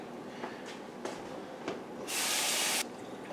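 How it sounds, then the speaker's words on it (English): A funnel being rinsed under running water during mead brewing, a faint clatter and a few splashes first, then a steady loud hiss of water for almost a second before it stops. "I'm also going to rinse my funnel"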